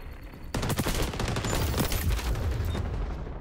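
Sustained gunfire in the shooter game XDefiant begins abruptly with dense, rapid automatic bursts that stay loud and continuous to the end.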